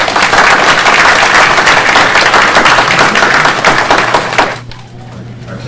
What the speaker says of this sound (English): Nice round of applause for Dr.